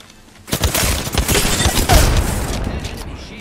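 A frag grenade blast in a video game, a sudden loud boom followed by a crackling, rumbling roar that slowly fades over a few seconds.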